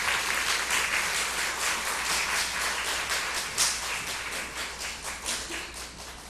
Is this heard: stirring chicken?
no